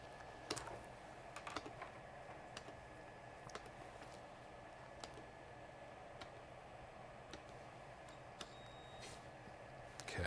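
Steady keyboard typing with scattered key clicks under a constant background hiss, fairly quiet, no talking, heard while a keyboard is being made to work during a tinkering session.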